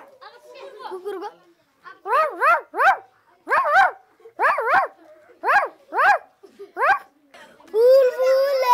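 A dog gives a series of about nine evenly spaced, sharp barks at close range, with brief pauses between them and a whimpering, whining sound at the end.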